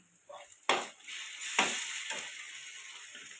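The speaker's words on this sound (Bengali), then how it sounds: "তেলটা গরম হয়ে গেছে এখন দিয়ে দেবো কাঁচা লঙ্কা পেঁয়াজ" Green chilies and onion hit hot oil in a pan, producing a sharp sizzle burst followed by a second loud hiss and continuing frying crackle that slowly fades.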